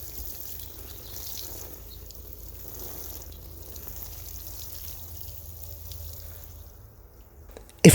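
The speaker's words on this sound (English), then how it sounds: "Finally, now we can water. Just look at how that mulch barely moves, even from this coarse watering can." Water from a coarse watering can falls onto mulch around pepper plants in a steady soft trickle and patter, quiet and continuous, ending with a short sharp knock.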